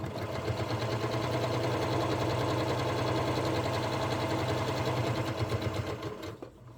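A sewing machine runs steadily, stitching close to the folded edge of a fabric school notebook cover, its rapid needle clatter and motor hum loud and close, continuous for several seconds before stopping at the end.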